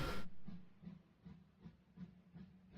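A freight train in the EEP 6 railway simulator game rolls along with soft, evenly spaced rhythmic thumps of wheels over rail joints, faint and low beneath a quiet hiss after a brief louder opening burst.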